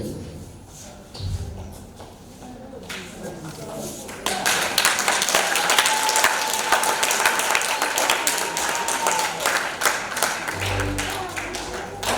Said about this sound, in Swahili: Yesu makofi kabisa